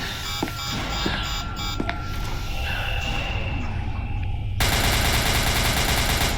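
Gunfire from Nine-Tailed Fox soldiers shooting at 008-infected zombies in SCP: Containment Breach, a few sharp shots in the first two seconds over steady game ambience and beeping tones, ending in a loud burst of noise.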